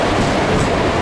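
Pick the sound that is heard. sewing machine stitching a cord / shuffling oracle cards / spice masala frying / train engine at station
train engine at station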